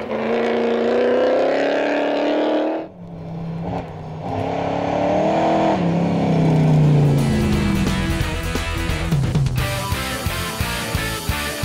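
A rally car, the Rovenger, roars past on a racing run, its engine climbing through the gears, dropping briefly on a shift, then revving hard again as it passes close and loud.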